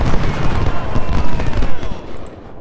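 Massed musket volleys crackle and rumble nonstop in the Civil War strategy game Ultimate General: Civil War, at the Second Battle of Bull Run. The shots are loud and dense, blurring into a continuous roar of battle.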